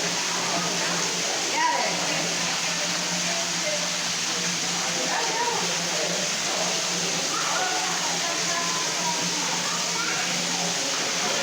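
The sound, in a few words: waterfall in a cave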